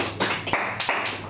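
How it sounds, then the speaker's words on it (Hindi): A few sharp hand claps ring out in an uneven burst of about five or six, close and loud in a classroom setting. "तुम्हारे लिए ताली बजा दो"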